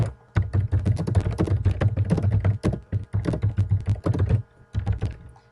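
Fast, steady typing on a computer keyboard, a close run of crisp key taps with short pauses between bursts, entering notes in the Edmodo classroom platform; no voices.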